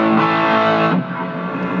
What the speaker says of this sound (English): You can select overdrive, for example. We'll give it KT66 tubes, voice it like a British amp, turn on some reverb, maybe a little bit of a delay.